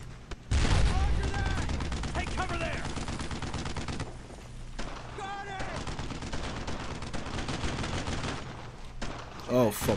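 Heavy gunfire in the World War II game Brothers In Arms: Road to Hill 30, sustained rapid machine-gun and rifle fire crackling loudly and close, with shouted voices in between.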